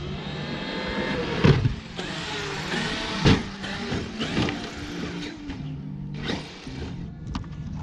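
A Traxxas X-Maxx RC truck at a park speeds toward a ramp, its electric motor whining in surges that rise and fall, with a couple of sharper bursts as the throttle is pushed, fairly close and no voices.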